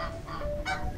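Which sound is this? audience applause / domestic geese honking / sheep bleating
domestic geese honking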